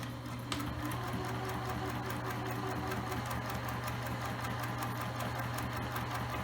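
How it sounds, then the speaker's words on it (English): A sewing machine stitches fabric for a DIY scrunchie, running as a steady, continuous mechanical whir with rapid needle ticking, close and unbroken. "I'm going to start to sew"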